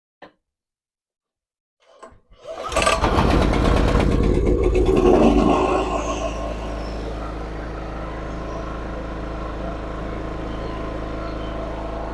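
A SIGMA 2.8/3 kW generator is started for the first time. After near silence and a couple of pull-start clatters, the engine catches with a loud close roar, then settles into a steady running drone.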